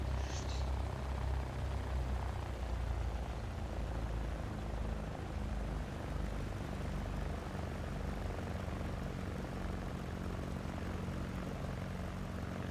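Steady propeller engine drone of a Cessna 172SP taxiing in the X-Plane 11 flight simulator, a constant low rumbling hum with no voices.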